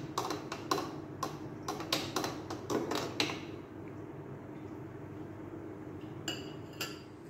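A spoon clinks against the side of a bowl while lemon juice from eight lemons is stirred together, a quick run of sharp, close taps that slows and falls quiet, with a couple of faint clinks near the end.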